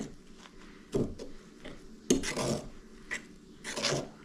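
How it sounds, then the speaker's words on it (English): Fork stirring and scraping bread dough mixture in a bowl, a series of quiet rasping strokes in an irregular rhythm, close and without talk. "And then with your fork, you just want to mix it in."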